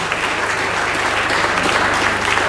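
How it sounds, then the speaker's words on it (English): Sustained applause fills a Rotary Club District 9141 World Interact Day conference hall, a dense, steady wash of clapping from a large audience with no talk over it. "Please keep clapping, keep clapping, keep clapping till she gets there."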